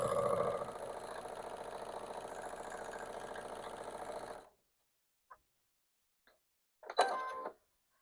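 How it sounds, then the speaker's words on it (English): A sewing machine stitches fabric a quarter inch from a marked line, a close steady mechanical whir for about four seconds that stops abruptly, followed by a few small clicks and a brief rustle of handling. "Gonna sew on both sides of that line a 1/4 inch away."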